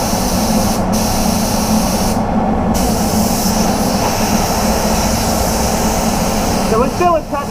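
A paint spray gun hisses continuously while spraying Lunar Grey onto a Jaguar XF, a loud, steady airy rush close by, with brief gaps where the trigger is released.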